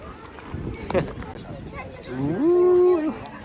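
A nearby cow lets out a single drawn-out moo toward the end, outdoors near Saskatoon on a cold, slightly windy day, preceded by rustling and a short vocal sound.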